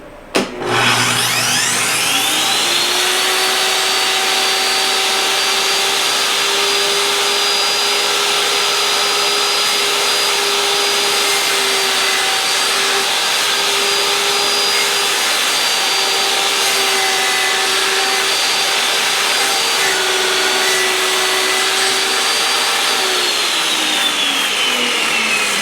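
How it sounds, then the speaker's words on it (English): A table saw spins up and runs steadily while trimming a last bit of material from a wooden board, a loud close whining drone that holds for over twenty seconds before starting to wind down, with no voices. "I'm going to turn my saw back on and just remove this last little bit of material"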